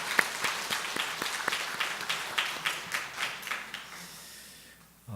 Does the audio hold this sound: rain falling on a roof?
no